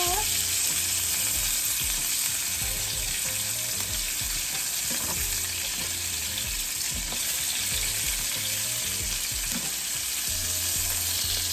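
Oxtail stew bubbles and sizzles in a pot, a steady close hiss and crackle with faint low stirring or clinking sounds underneath, and no voices.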